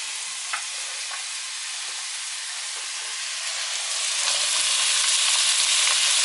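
Parsnips, carrots and onion sautéing in a pan, a loud, dense, continuous sizzle and hiss close by that swells slightly louder toward the end, with a couple of faint clicks early on.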